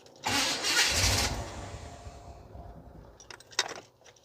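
A classic small-block V8 in a Chevrolet Tahoe, freshly fitted with a new starter, cranks briefly and catches, roaring loudly before settling into a steady idle, followed by a couple of sharp clicks and rattles.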